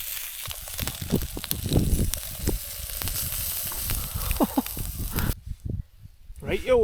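An omelette sizzles and crackles in a pan over a Trangia camping stove at a Northumberland wild camp, a steady close frying hiss with rustly bursts and low speech-like rumbles, cutting out briefly near the end before resuming.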